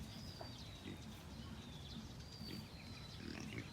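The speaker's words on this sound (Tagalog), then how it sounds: "yan po yung ating tinetesting na bulugan" An eight-month-old boar pig grunting in a pen, low soft grunts close by over a faint hiss, with a thin high chirp also present and no talking.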